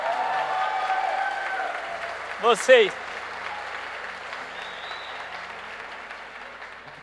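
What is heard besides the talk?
audience applause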